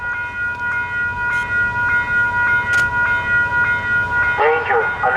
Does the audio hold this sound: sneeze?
no